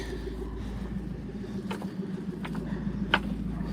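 A steady low engine and exhaust drone from an old Ford truck idles on, a muffled, glass-pack-like tone with a few faint clicks over it.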